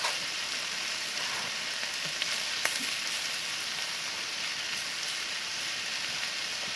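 Burgers topped with American cheese sizzle and spit on a hot griddle in a steady, dense frying hiss with a few faint pops, heard close but at low volume and with no talking.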